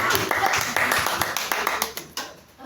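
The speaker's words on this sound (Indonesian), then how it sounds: "Tepuk tangan dulu untuk kita semua" A classroom full of students claps together in a quick, uneven burst of close, sharp hand claps lasting about two seconds, with voices mixed in before the sound tapers off.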